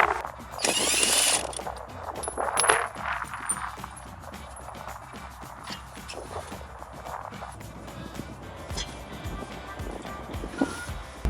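Power tool spinning off lug nuts on a Jeep Wrangler JL 4-door, a loud whirring burst early on followed by quieter ratcheting and mechanical clatter in a garage.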